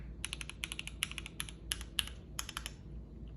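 Typing on a Keychron Q6 mechanical keyboard with brown switches gives a quick run of crisp, close keystroke clicks in uneven bursts, quiet and alone.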